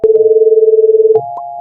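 A steady telephone dial tone sounds loud and clean for just over a second, then shifts to a slightly different continuous tone until the end, with no voices.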